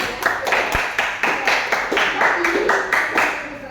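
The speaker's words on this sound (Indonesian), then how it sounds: "tepuk tangan untuk Liana" Children in an elementary classroom clap for a classmate in a quick, rhythmic burst of about eight close, loud, evenly spaced claps, with voices underneath.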